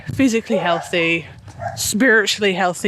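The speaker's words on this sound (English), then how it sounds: "Please excuse the dogs barking." Dogs bark and yip in the background while someone talks steadily over them, the barking mostly buried under her voice.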